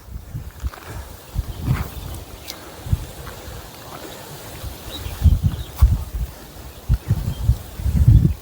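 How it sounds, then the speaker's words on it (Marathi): Strong wind gusts through a cashew orchard a short walk from home, producing a buffeting low rumble on the microphone that swells and fades in uneven bursts, loudest near the end, with faint leaf rustling behind. "हा वाव कसलं वारं सुटलं यार"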